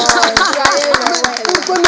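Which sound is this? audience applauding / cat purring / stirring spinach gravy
audience applauding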